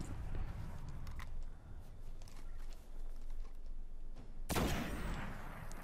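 Gunfire in the Destiny beta on PS3 as headshots land and enemy heads burst in small puffs of smoke: a steady run of shots and game noise, then one loud, sharp, bright blast near the end.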